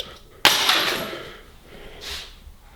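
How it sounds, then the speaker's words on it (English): Glass breaks suddenly during automotive headlight and fog light work, a loud, sharp crack followed by a fading scatter of debris and a brief later rustle. "Damn, that was glass."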